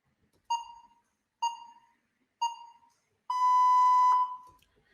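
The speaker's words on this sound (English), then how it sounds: "it kind of kills the phone beep that you can hear" Three short electronic beeps at an even pace, followed by one longer sustained tone, clear and isolated against silence.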